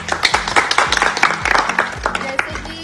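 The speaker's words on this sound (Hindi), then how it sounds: "जोरदार तालियां" An audience claps on a Hindi television show stage, with brisk, dense applause and loud sharp hand claps sounding close for a few seconds, with a voice mixed in.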